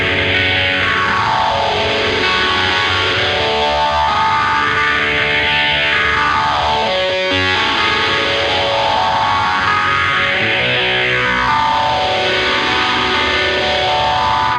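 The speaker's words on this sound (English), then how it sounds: "Or I switch over immediately to the overdrive distortion and individually pick do some alternate picking with that" Electric guitar through overdrive distortion, played with rapid alternate picking in repeating rising and falling runs, loud and up close with a brief pause midway.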